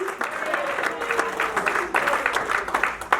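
A church congregation at a campaign service breaks into loud, sustained applause, many hands clapping together in a dense, rhythmic wash with a voice speaking over it.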